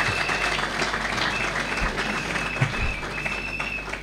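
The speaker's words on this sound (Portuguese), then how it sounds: "mas podem bater palmas para ele" Audience at a political meeting in Beira, Mozambique, applauding the Norwegian ambassador's political secretary, a sustained crowd clapping that stays fairly even for several seconds.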